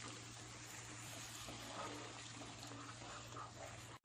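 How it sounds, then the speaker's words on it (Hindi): Water poured into chicken masala frying in a pan, a steady broadband wash and trickle with a constant low hum beneath, alone and fairly loud throughout before cutting off at the end. "इसमें हम थोड़ा सा पानी डाल देते हैं"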